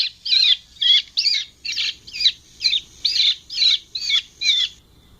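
A bird-scaring device on a farm plays a recorded bird call, a loud series of about ten sharp, evenly spaced squawking chirps that repeat in a steady rhythm, with nothing else in the background.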